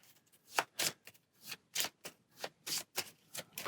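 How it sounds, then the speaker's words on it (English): A deck of Aeons End game cards is shuffled by hand in about a dozen quick, crisp riffling bursts with short gaps between them, close and fairly quiet, with no speech. "Then we need to shuffle these."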